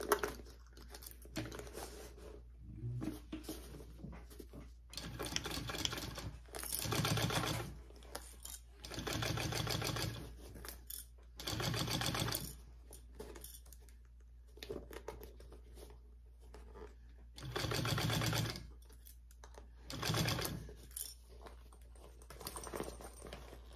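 A domestic sewing machine stitches fabric with the lining side up and the gusset down, running in several loud bursts of rapid needle chatter separated by quiet pauses, close by.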